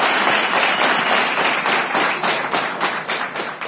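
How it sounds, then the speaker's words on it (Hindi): A boot camp audience claps loudly and energetically, many hands forming a thick, continuous roar with sharp individual claps standing out, and no voices over it. "जबरदस्त ताली हो जाए।"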